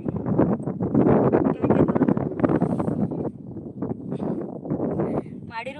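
Wind gusting across a rooftop terrace, buffeting the microphone with heavy low rumble and roar throughout, while someone talks over it.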